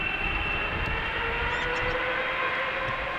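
An Air Canada Boeing 777 airliner rumbles at Amsterdam Schiphol Airport with a broad, steady engine roar and a whining tone, heard from a distance outdoors with no speech.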